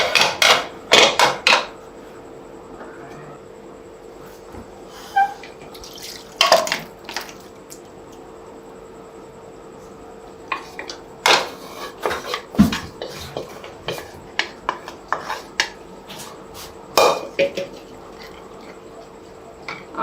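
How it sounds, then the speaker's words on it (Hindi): Pressure cooker being opened after cooking mutton in a home kitchen: sharp metallic clanks and knocks of the lid and pot, in scattered bursts with quiet gaps, close and fairly loud. "प्रेशर कुकर खोलने लगे हैं।"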